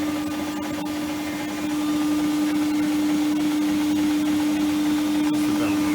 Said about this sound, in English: That's the belt noise you can hear.